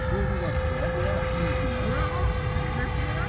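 Freewing Yak-130 RC model jet at 100% thrust flying overhead, a steady whining turbine-like drone with a sustained high tone, continuous throughout, with people talking nearby.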